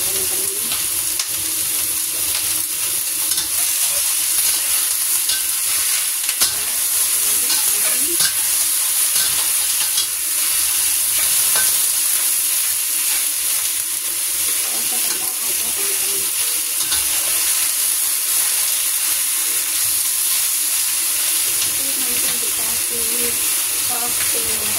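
Chicken sautés in a pan until browned for oyster sauce chicken, giving a steady, dense sizzle that runs throughout, with occasional faint stirring and scraping.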